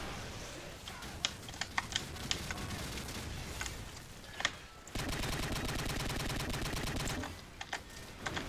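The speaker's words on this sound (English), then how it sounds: "We can now shoot grenade launchers like a fully automatic gun." Call of Duty 4 gunfire from a grenade launcher cheated into fully automatic fire, with scattered shots and sharp pops at first, then a dense rapid stream of repeated blasts, fairly quiet overall.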